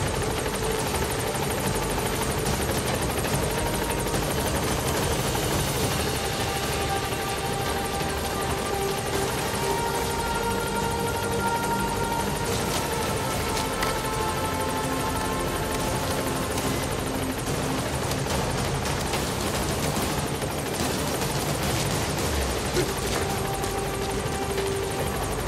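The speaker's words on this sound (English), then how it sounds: "Support helicopter has arrived." A support helicopter in Metal Gear Solid V roars steadily with loud, constant rotor thump and engine wash, filling the whole stretch without a break.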